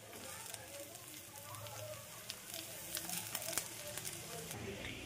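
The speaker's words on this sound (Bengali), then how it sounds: "এবার আমি এর মধ্যে কুচিয়ে রাখা রসুন আর কুচিয়ে রাখা কাঁচা লঙ্কা দিয়ে দেব।" Chopped garlic and green chilli sizzle in hot oil in a pan for a baingan bharta, a steady crackling fry with scattered pops throughout, fairly quiet.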